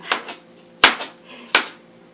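A knife julienning vegetables on a cutting board for bibimbap, giving four or five crisp chopping knocks in uneven pairs, close and clear with no talking.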